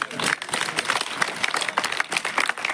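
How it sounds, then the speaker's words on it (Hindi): A crowd at a political rally claps in a dense, uneven burst of applause, fairly close and continuous, with some voices mixed in. "ऊपर हाथ करके ताली बजाओ एक बार"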